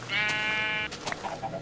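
A sheep in a Minecraft-style video game lets out a single clear, drawn-out bleat, followed by faint softer game sounds.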